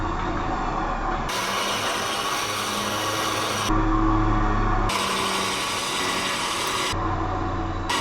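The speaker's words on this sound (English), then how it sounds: "That winch don't play around, huh?" A winch steadily pulls a Honda ATV through trees off a trail, giving a continuous mechanical whir and grinding with ratcheting texture, close and loud, the tone shifting in several segments.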